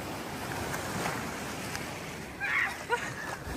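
Waves breaking on a beach in Portugal, a steady close wash of surf and splashing water with wind noise, a brief louder surge near the end, and no voices.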